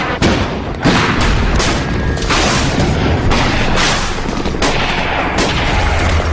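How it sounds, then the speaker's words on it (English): Explosions from the bombing of Afghanistan during wartime boom out in a loud, relentless barrage, heavy thuds and blasts following one another in quick succession with gunfire-like cracks throughout, filling the whole stretch with no talking. "The first phase of this war was the bombing of Afghanistan."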